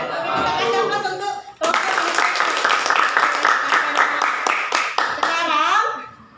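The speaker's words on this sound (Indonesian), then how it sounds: "Kita kasih aplaus untuk" Classroom audience applauding: a steady burst of fairly close clapping with children's voices and chatter mixed in, tapering off at the end.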